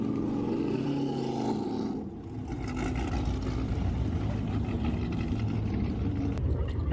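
Cars pulling out of a car meet parking lot, a loud roaring engine and exhaust passing close by, with the roar dipping briefly and then building again as the vehicles leave.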